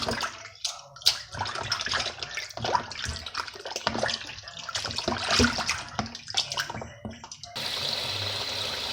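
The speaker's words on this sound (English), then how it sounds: "So I'm just going to wash the meat." Running tap water splashes over raw pork pieces being rinsed in a sink, a steady busy gush broken by handling and water hits, ending in a smoother, even rush of flow.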